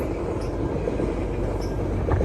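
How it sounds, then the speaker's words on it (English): A passing train gives a steady, loud low rumble of rolling rail cars throughout, with faint higher screeches near the end and no voices. "Another train passed by"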